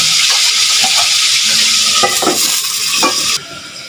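Fish frying in a covered pan gives a steady broadband sizzle with a few soft clinks and stirring knocks, close and fairly loud, then dropping to a quieter hiss near the end; no talking.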